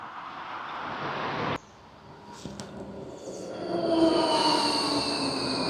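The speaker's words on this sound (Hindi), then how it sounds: "तो गाइस ट्राम आ गई है" A tram pulling in on a morning street, with rumbling wheels, a sudden break in the noise, then rising metallic squeals and tonal whine as it comes to a stop nearby.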